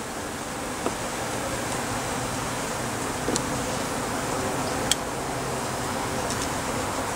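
Honey bees flying around an open backyard hive, giving a steady, dense buzzing drone that fills the whole stretch at an even level, with a few faint clicks and no clear talk.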